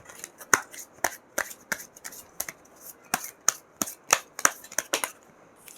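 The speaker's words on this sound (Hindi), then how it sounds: "पहले कार्ड्स निकाल लेते हैं।" Tarot cards are shuffled and drawn by hand, giving close, crisp snaps and riffles in an irregular rapid rhythm, faint and without talk.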